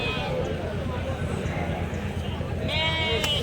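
Sheep at a weekly livestock market in Kadiri bleat amid crowd noise and nearby talking. A clear bleat rises briefly near the end.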